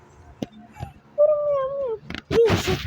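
A cat gives a drawn-out, wavering meow at close range, followed by a shorter second meow, with household noise and talk nearby.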